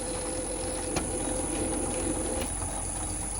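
Motor-driven lead screw moving a machine carriage between limit switches, a steady continuous whine and hum with a faint high tone and two faint clicks, close and unbroken.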